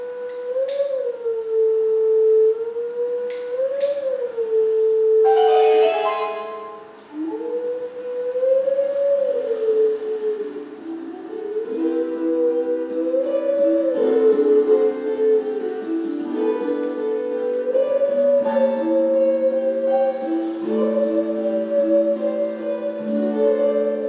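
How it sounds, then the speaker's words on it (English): Wolf howling Zelda's Lullaby in Zelda: Twilight Princess, a clear wavering melodic howl that carries through the whole stretch, later layered with a second echoing voice, no talk. "stand on this Triforce, and once again, howl Zelda's lullaby."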